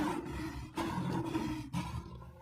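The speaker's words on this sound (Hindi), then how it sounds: "आवाज से तो लगता है कि कोई शेर मेरी ही ओर बढ़ता चला आ रहा है।" A lion roaring in a Hindi cartoon, a steady, rough, rumbling roar lasting a couple of seconds with brief breaks, fairly loud and alone.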